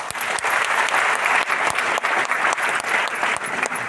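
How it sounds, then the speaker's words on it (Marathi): An audience claps in sustained applause, dense and fairly loud, with individual sharp claps standing out over a steady wash of hand noise. "आपणही टाळ्या वाजवून त्यांचं स्वागत करा"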